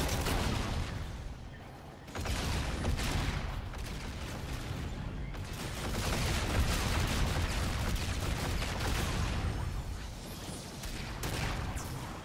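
Sustained video game gunfire, a dense, loud wash of overlapping shots and booms with brief dips between heavy stretches, continuing almost nonstop throughout.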